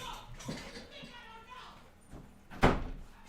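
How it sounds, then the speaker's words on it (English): A door is shut with a sharp, loud thud near the end, following a stretch of background chatter and a voice in a room. "close the door for me."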